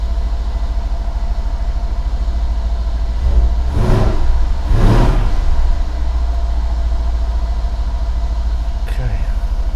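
A 2013 Mercedes-Benz AMG E63 V8 idles steadily in a repair shop, a constant low rumble with two brief swells around the middle and no talking.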